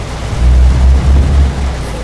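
Steady in-game rain with low rolling thunder rumble in Euro Truck Simulator 2, heard from a truck cab, a continuous wash with swelling low-end surges and no talk.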